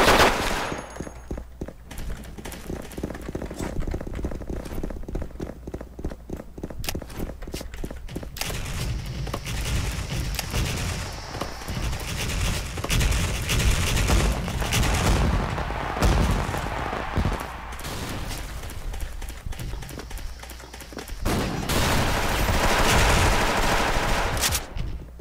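Gunfire in the online shooter Special Force rattles almost nonstop in rapid automatic bursts, some close and loud, others more distant, with occasional heavier booms mixed in.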